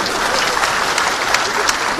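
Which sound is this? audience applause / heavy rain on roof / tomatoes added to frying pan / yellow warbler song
audience applause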